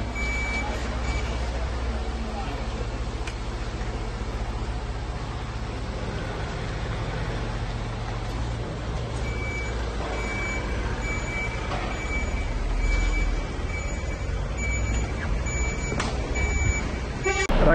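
Construction work next to a sports club's headquarters, with repeated truck reversing beeps over a steady rumble of engines and site machinery, and occasional clanks nearby. Bursts of people talking come and go in the background.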